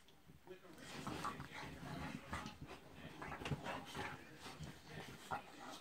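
Two dogs play together, producing faint, quiet scuffling, panting and small yips that come and go in irregular bursts throughout.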